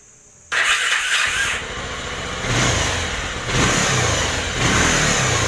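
A Bajaj Pulsar motorcycle engine with a starter problem catches after a short quiet lead-in, then revs loudly and unevenly in repeated swells, close and with no talk over it.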